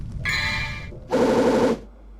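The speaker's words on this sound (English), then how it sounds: "Hello, is that a gun?" Rapid automatic gunfire underwater in the Devil May Cry video game, two bursts of muffled, buzzing shots, the second louder and denser, with no talking over them.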